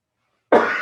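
A single sharp, close cough from an older man in a cold room bursts out abruptly after silence and tails off raspily.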